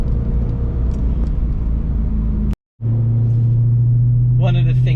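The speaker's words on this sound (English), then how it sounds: "when you put your foot down, you really do hear that V8 scream" A BMW E92 M3's V8 engine pulls hard under acceleration, a loud, steady rumble from inside the car with a brief dropout mid-clip before the engine note returns stronger; a voice speaks over it.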